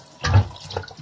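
Tap water splashes briefly into a kitchen sink as beef hooves are rinsed, a short close burst of running and splashing water with no talking.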